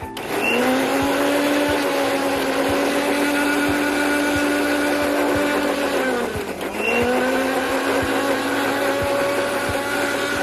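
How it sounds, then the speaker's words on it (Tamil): A kitchen mixer grinder blends drained, cooked ingredients in its jar, a loud steady motor whine that holds constant, dips and winds down briefly near the middle, then spins back up and runs on alone. "நல்லா அரைச்சிட்டு இருக்கோம்"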